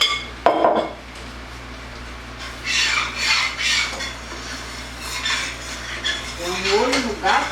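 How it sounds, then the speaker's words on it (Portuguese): Metal spoon clinking and scraping inside a pot of boiling pineapple and strawberry jam, several stirring strokes with rattling knocks, close and clear. "mexe na panela e venho aqui, que eu tô lá com a nossa geleia fervendo"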